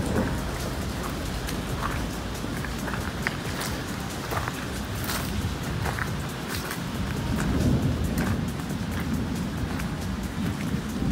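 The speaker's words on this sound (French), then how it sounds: "Ouais, tonnerre en plus" Steady, dense rain hisses throughout a Christmas storm mixed with hail, with a low rumble of thunder swelling midway under the continuous downpour.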